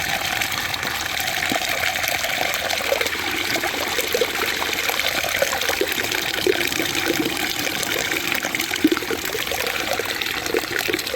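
Dirty water from cleaning gym turf in Stockton, California drains in a steady, continuous gush and trickle, close by and unbroken throughout, with no voices.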